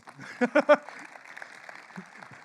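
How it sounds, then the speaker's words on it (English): A brief burst of a few claps from a conference audience, then quiet room murmur. "You guys are clapping at this cyber criminal activity."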